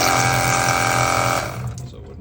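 Water from a tap runs through a small Temu faucet gadget with a steady hissing rush, then abruptly peters out to a few drips.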